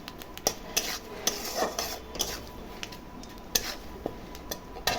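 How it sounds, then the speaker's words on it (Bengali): Dry chilli, bay leaf and cumin crackle in hot oil in a pan, a soft sizzle under repeated sharp clinks and scrapes of a utensil stirring against the metal, with no talk. "ওই তেলের মধ্যে আমি শুকনো লঙ্কা, তেজপাতা, ফোড়ন দিচ্ছি"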